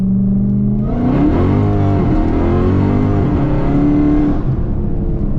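A car launches hard from a 20 mph roll in first gear, its engine revving loud and close with rising harmonic pitch, holding a strained roar before easing off.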